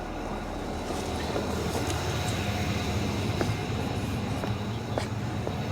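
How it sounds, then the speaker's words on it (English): A 2025 GMC Sierra HD AT4X AEV diesel engine idles steadily, a continuous low rumble and clatter heard close up with faint ticking, no voices over it. "Top out and listen to this engine."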